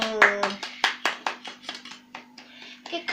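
People clap their hands at a birthday gathering, about a dozen quick sharp claps in an uneven rhythm, close by, with a voice briefly heard at the start.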